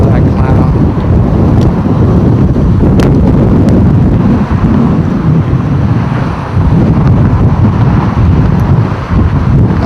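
Strong, roaring wind gusts buffet the microphone on a bridge, a dense continuous rumble that stays loud throughout with brief dips, and no clear voices.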